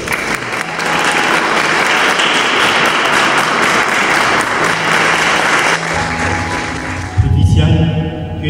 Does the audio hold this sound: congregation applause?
yes